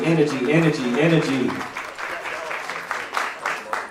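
Audience applause breaks out at a live stream of the CoMotion LA '25 event, a sustained crowd clapping that starts under a speaking voice and continues steadily at moderate distance.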